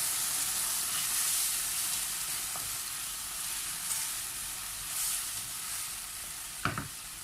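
Sauce for chicken feet bubbles and sizzles steadily in a hot pan, a continuous close hiss broken by a couple of brief clinks of the stirring utensil.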